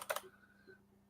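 Two or three quick keyboard key clicks at the start while a figure is typed on a computer keyboard, followed by near silence with a faint hum.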